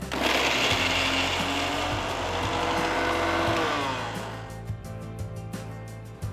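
An electric kitchen mixer grinds chopped green chilies, garlic cloves and a large piece of ginger into paste, a loud steady whirring drone that eases off and sputters down into a few knocks near the end.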